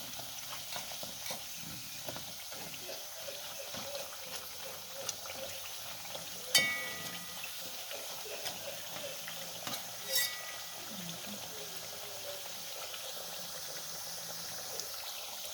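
Dasheen frying in hot oil as part of a Jamaican curry goat meal, a soft, steady sizzle running throughout with a couple of faint clicks and knocks from utensils.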